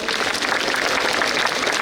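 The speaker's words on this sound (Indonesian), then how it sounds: "tepuk tangan untuk Padang TV barangkali" A school event audience in West Sumatra gives a short burst of applause, dense steady clapping from many hands with no voices.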